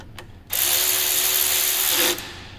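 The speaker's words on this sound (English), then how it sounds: "Once you guys got the new sensor plugged in, just tighten all the bolts." A power tool tightens the bolts on a fuel rail pressure sensor of a Mercedes C63 AMG M156 engine, one steady, loud, close whirring run of about a second and a half that starts and stops abruptly.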